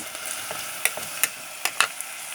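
Zucchini sautés in a pan after onions with a soft continuous sizzle, broken by a few sharp scraping stirs of a utensil against the pan.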